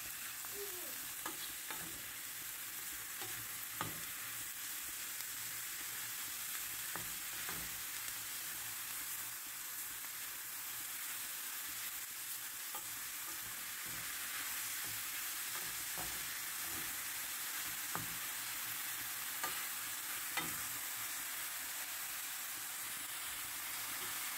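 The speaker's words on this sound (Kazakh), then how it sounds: "Пиязды араластырып қуырып алған соң, оған саңырауқұлақты қосамыз." Mushrooms fry with onions in a pan, giving a steady sizzle throughout, with regular scraping stirs and no voices.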